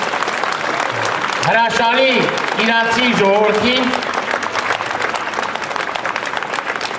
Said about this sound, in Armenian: Խնդրում եմ մեկ անգամ եւս բարձր ծափահարեք մեր